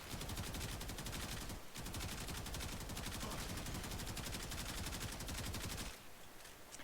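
A Kuva Karak rifle in the video game Warframe fires in rapid, dense automatic bursts against enemies. The shots crackle continuously with two brief pauses. The fire is close, loud and constant, with no talking.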